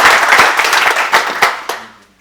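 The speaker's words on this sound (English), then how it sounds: "let's give him a big applause." Audience applause for a speaker after a talk at a network operators' conference, a burst of many hands clapping that tapers off and fades out within about two seconds.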